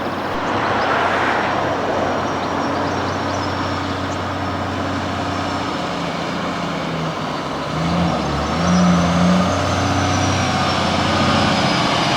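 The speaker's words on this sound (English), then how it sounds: "A 1995 8x4 Fordon 4235 with a giant slide." A 1995 8x4 Fordon 4235 truck hauls a giant slide across loose, dusty ground at a truck pull, its engine a steady loud roar that swells near the end, with no voices over it.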